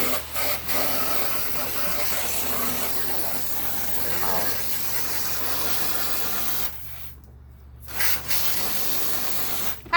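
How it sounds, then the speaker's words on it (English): Hose water sprayed across a dog pen for American bully dogs, a steady hissing wash that briefly cuts out and then resumes, close and fairly loud. "So now I'm going to spray this."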